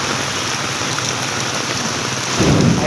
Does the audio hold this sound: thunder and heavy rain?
yes